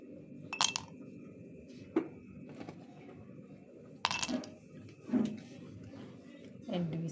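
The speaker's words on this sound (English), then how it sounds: "So let me add my ice cubes." Ice cubes dropped into a juice glass for a banana smoothie give several bright clinks and clatters spread across the clip, close and clear, with a voice talking in the background.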